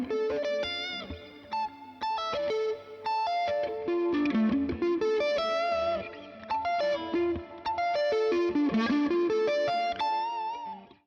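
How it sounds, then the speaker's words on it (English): Electric guitar playing a string-skipping picking run, with a continuous stream of quick, evenly picked notes leaping across strings, moderately loud with a slight effects sheen and brief pauses between phrases, no talking. "now we're taking on this string skipping run, this picking run"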